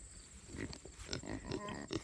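Kune Kune pigs grunt close by on a small farm, a run of short, low snuffling grunts coming in quick irregular bursts with no talking.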